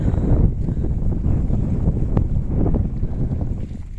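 Wind buffeting a microphone at a hilltop viewpoint near Peermade, a loud low rumbling gust that fluctuates steadily throughout, with no talking over it.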